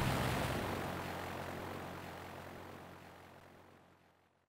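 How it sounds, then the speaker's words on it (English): An airplane from the Pokémon Black 2 video game flies off in a steady whooshing engine drone that fades gradually over a few seconds into silence, with no talking. "So we go off on a plane, flying,"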